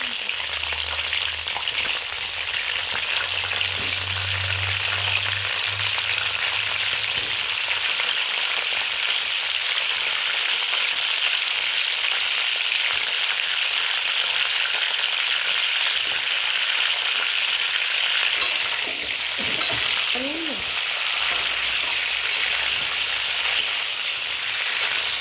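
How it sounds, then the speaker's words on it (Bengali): Cauliflower florets fry in hot oil in a pan, giving a steady, close sizzle that runs throughout with faint stirring. "এবার আমি ফুলকপিগুলো ভেজে নেব।"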